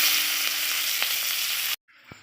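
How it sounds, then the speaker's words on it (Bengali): Chopped onion sizzles loudly in mustard oil tempered with a bay leaf and cumin, a steady close frying hiss that cuts off abruptly, leaving near silence with one faint tap. "তো দেখো পেঁয়াজটা এরকম ভাজা হয়েছে"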